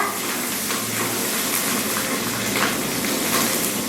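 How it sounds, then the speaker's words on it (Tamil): Mustard seeds crackle and pop in hot oil as onions, green chilies, dried red chilies and curry leaves fry for a beans poriyal, a steady close hiss with scattered small pops, no talking. "கடுகு வெடிக்கட்டுங்க."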